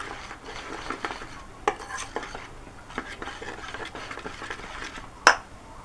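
Cabbage pakora batter is stirred in a bowl, giving a run of soft, wet scraping strokes with light spoon taps and one sharp clink near the end, close and unaccompanied by speech.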